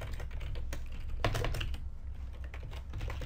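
Someone types on a computer keyboard as code is entered, quick uneven clicks and key taps at close range over a steady room hum.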